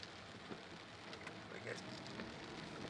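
Rain falling steadily around a car while driving, a continuous hiss with scattered drop taps, with someone briefly speaking over it.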